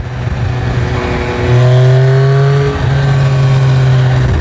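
A Yamaha Tracer motorcycle with an Akrapovic Racing Line exhaust revs hard and rises in pitch, then briefly cuts for a quick-shifter gear change and climbs again, loud and close.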